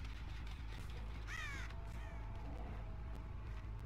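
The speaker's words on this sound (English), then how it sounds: "Who came past this way, birdies?" Crows caw in the Dead by Daylight video game, with one clear, moderately loud caw rising briefly over a steady low ambient hum.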